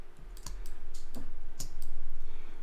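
Arrow keys on a computer keyboard tapped one at a time, giving a handful of crisp, separate clicks at an uneven pace, close up and alone with no voices.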